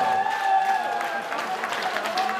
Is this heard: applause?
yes